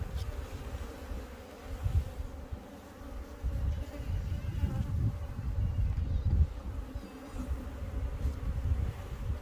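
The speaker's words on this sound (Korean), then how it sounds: "동양종 꿀벌이 이제 한 통 들어왔습니다." Asian honey bees (Apis cerana) swarm around their hive, producing a dense, continuous buzzing hum that swells and fades slightly, close and moderately loud, with no talking.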